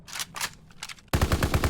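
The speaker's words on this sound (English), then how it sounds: "BAR or the Browning Automatic rifle, but this thing's a light machine gun" Browning Automatic Rifle light machine gun in a Pacific-war Call of Duty game, first a few separate loud shots, then a steady rapid burst of automatic fire with evenly spaced reports.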